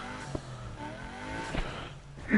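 A car drives in Need for Speed Heat on PS4, its engine holding a steady drone throughout with a few faint knocks, and no talking over it.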